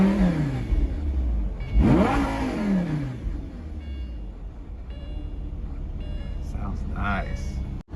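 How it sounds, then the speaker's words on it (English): A Lamborghini Gallardo's engine idles with a deep rumble, then gives one loud, sharp rev that climbs and falls away before settling back to a steady idle. "Just gonna give it a little bit of gas here."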